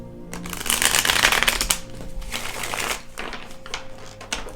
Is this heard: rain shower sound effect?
no